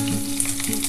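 Black cumin seeds and garlic hit hot oil, giving a short, loud, steady sizzle and crackle up close.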